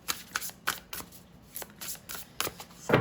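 A Spellcasting Oracle card deck being shuffled by hand, a close, quiet series of soft riffling flicks in an irregular rhythm, with no talk over it.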